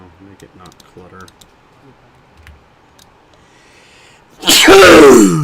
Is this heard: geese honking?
no